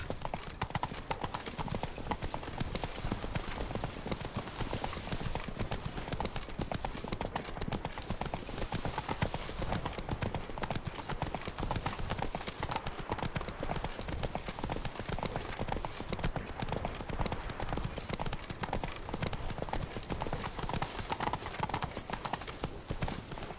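The horse Roach gallops in The Witcher 3 video game, with a rapid, unbroken clip-clop of hooves driving steadily throughout, loud and close.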